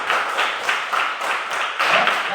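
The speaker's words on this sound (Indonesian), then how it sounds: "Jadi tepuk tangan untuk kita semua." Group hand clapping in an Indonesian classroom during a lesson on Pancasila: a dense, steady patter of many hands with a loose rhythm, close and fairly loud, with no talking.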